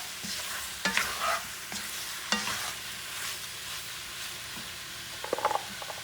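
A spoon stirs gumbo ingredients with cayenne pepper in a pot, quiet sizzling under a few sharp scraping clatters, close by and with no talk.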